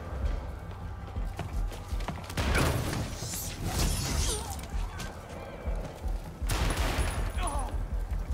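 Rapid enemy gunfire in Marvel's Spider-Man Remastered crackles in bursts over clattering mechanical game noise, loud and close, with a voice speaking in between.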